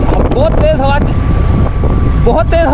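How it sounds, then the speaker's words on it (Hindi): Strong wind roars into the microphone during a motorcycle ride from Manzoor Colony to Korangi Causeway in Karachi, a loud continuous buffeting rush, with a voice speaking over it at the start and end. "तेज़ हवा चल रही है दोस्तों"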